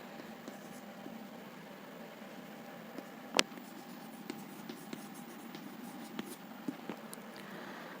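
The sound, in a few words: writing by hand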